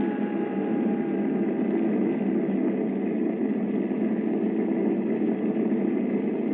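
An aircraft engine idles steadily during a landing with a damaged nose wheel and half-gone right flaps, a continuous droning hum that stays loud and even throughout with no talk over it.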